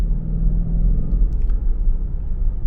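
Supercharged V8 of a 2020 Jaguar F-Pace SVR rumbles steadily with a deep, loud low-end drone, no voices over it.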